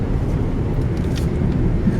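A vehicle climbing over dirt and sandstone formations on a rural wooded tract near a wildlife area, a steady low engine and tire rumble up close with no talk.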